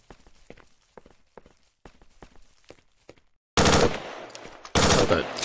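Loud automatic gunfire from the video game S.T.A.L.K.E.R. Shadow of Chernobyl, two dense bursts near the end, after a run of faint footstep-like thuds.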